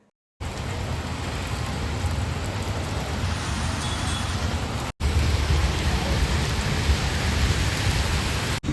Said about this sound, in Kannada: ಹೆವಿ ಮಳೆ